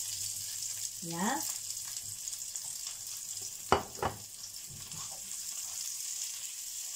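Onions frying in a hot pan, a steady close sizzle throughout with a couple of sharp utensil knocks midway; a voice speaks briefly over it.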